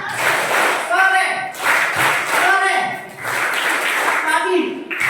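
Children at a church kids' gathering play a clapping game, their hands slapping in a quick rhythm while young voices chant along in bursts, the claps and chanting loud and close.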